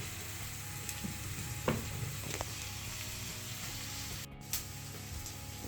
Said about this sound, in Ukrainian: Цибульку обжарили і кидаємо наші печериці